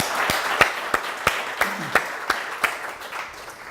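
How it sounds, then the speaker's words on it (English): Audience applause at a Talend user group meeting in Montreal, heard as sparse, evenly spaced claps over a steady room hiss rather than a dense ovation. "So a little round of applause, please"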